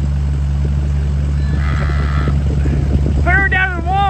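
A modified Super Saturn tractor fitted with swamper tires runs loud and steady with its exhaust cutoff open, a constant low drone close by, with a brief squealing overtone near the end and people talking over it.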